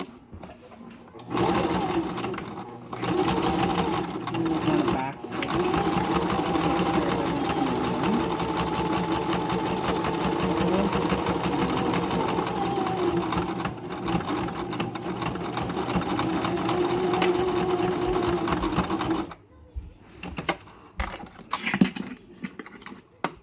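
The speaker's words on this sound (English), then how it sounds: "I like to sew up the other side as well." A sewing machine stitching the side of a homemade fabric mask, a steady loud whirring hum that runs continuously for most of the stretch before stopping and giving way to a few scattered clicks and handling noises.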